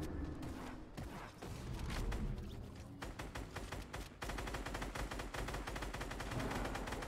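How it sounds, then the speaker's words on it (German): Dense, rapid gunfire from Fortnite weapons during a competitive FNCS trio finale, a near-continuous volley of loud overlapping shots and bursts that never lets up. "Sind einfach unglaublich viel Damage und viele Schüsse, die da raushauen"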